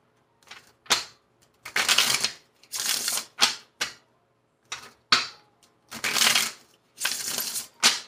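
Tarot cards shuffled and drawn by hand: a series of crisp, papery riffling bursts, close and moderately loud, separated by short quiet gaps, with no talking.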